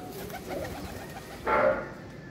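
Domestic pigeons at a fancier's loft coo softly and steadily, with one louder, fuller coo rising near the end over faint background noise.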